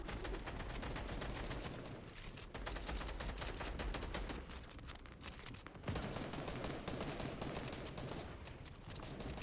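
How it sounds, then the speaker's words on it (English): Gunfire during a video game match, dense rapid bursts and volleys crackling almost without a break through the whole stretch. "Some solid shots coming out here from the squad"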